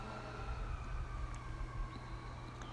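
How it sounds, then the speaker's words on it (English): A siren wails faintly in the distance over a steady low traffic rumble, drifting past without much change in loudness. "as the sirens go by"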